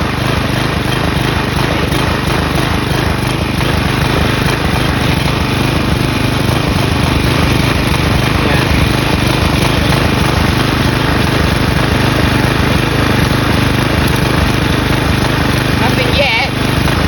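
A Briggs & Stratton flathead engine on a Craftsman push mower runs loud and steady while being fed sand, a dense continuous roar throughout with a brief disturbance near the end.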